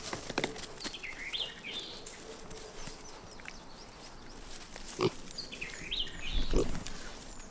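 Young pigs grunting at a feeder on a farm, scattered soft grunts and snorts with a few sharper squeals near the end, under occasional bird chirps and some talk.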